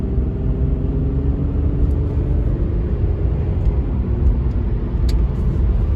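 A low-mileage Oldsmobile 98, the last of the big 98s, accelerates on a road, its engine a loud, steady, smooth rumble with road noise from inside the car and no talk.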